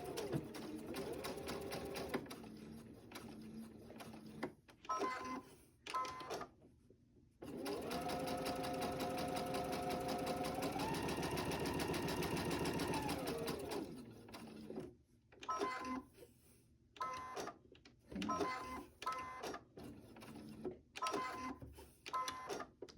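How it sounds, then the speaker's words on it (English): A sewing machine stitches a quarter-inch seam around a five-by-five-inch fabric coaster square in rapid, mechanical whirring runs, stopping and starting with brief pauses, close and clear. "We're going to sew a 1/4 inch around this 5 by 5 inch square."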